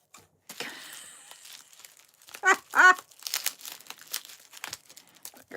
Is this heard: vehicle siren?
no